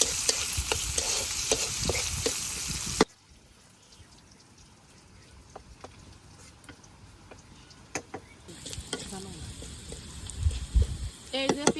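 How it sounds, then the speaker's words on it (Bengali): Onion and garlic frying in oil for a village-style dal and vegetable dish: a loud sizzle that drops sharply to a quiet crackle with clinks and stirring, then swells again near the end. "এই যে পেঁয়াজ রসুন গুলা লাল লাল করে ভেজা নিচ্ছি"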